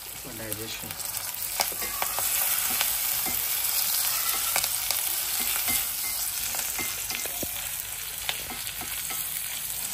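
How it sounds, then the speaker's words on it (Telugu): Dry red chillies, curry leaves and asafoetida frying in hot oil for a Telugu pepper rasam tempering, a steady close sizzle with crackling pops and the occasional stir, no talk. "ఇది కొంచెం బాగా వేగించి ఎండుమిర్చి, కరివేపాకు, కొత్తిమీర ఈ 3 వేసుకోవాలి"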